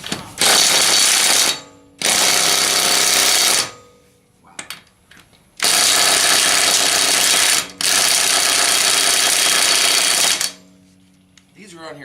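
Loud bursts of an impact wrench rattle off the wheel lug nuts of a Toyota 4Runner, four sustained hammering runs of about one to three seconds each, separated by short pauses with faint clicks.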